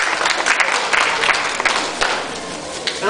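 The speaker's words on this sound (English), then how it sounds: "give me a round of applause for our 2 volunteers." An audience applauds two volunteers at a historical demonstration of an 1815 First Footguards surgical operation, with steady, dense clapping from a crowd that fills the room for a few seconds.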